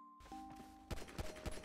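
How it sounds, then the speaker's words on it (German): Gunfire in a GTA RolePlay shootout: several sharp, loud shots crack out in an uneven burst during the second half, following a quieter stretch of game ambience and a steady tone. "Schießen von oben, die schießen von oben."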